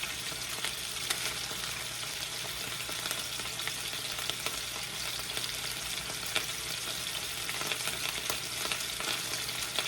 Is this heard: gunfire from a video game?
no